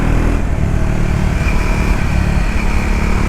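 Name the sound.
Triumph Scrambler 400 XC motorcycle thumpy bassy exhaust note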